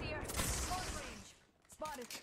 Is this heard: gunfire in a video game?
yes